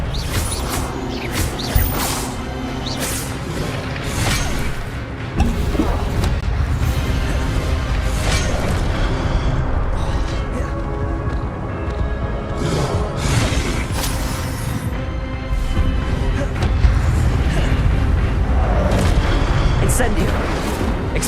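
An Expelliarmus disarming spell cast during combat in Hogwarts Legacy, surrounded by steady, dense game noise with heavy booms and crashes and a voice speaking over it.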